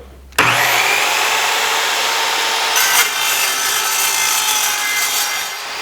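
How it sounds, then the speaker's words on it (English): An Evolution multi-material track saw cuts through 1-inch square metal tube, a loud, close, continuous grinding whine that starts abruptly and holds steady for about five seconds before easing off. "It went right through this 1-inch square tube with no issues at all."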